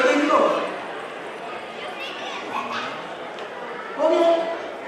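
A stage performer at a club event mimics a dog with his voice, giving short yapping barks at the start and again near the end, with vocal sounds in between over a live hall ambience.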